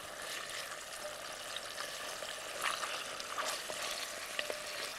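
Chicken breasts fry in olive oil in a pan, a faint, steady sizzle with small crackles and pops scattered through.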